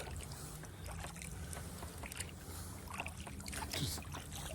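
Kayak paddling on open water on a recreational trip, with soft splashes and dribbles from the paddle strokes over a steady low wind and water rumble, moderately near and fairly quiet, with no talking.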